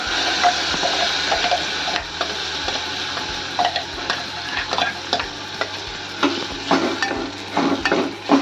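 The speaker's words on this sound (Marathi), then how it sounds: "हे आता वाटण घालते याच्यामध्ये" Ground masala paste for Maharashtrian tomato saar sizzling in a hot pan over high flame, stirred with repeated scraping strokes and light spoon taps, close and steady.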